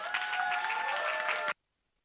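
Audience applause and cheering at a live music night at The Bedford for a singer-songwriter, a dense, loud burst of clapping with a few whoops that cuts off abruptly into silence.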